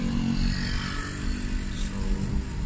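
A vehicle engine drones loudly and steadily while overtaking on a curving road in sports mode, a constant low rumble close by with no talk.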